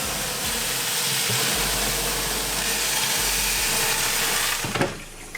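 Steam hisses inside a hot oven baking bread, a steady, broad hiss filling the whole stretch, loud and close, with a low rumble beneath and a brief clatter near the end.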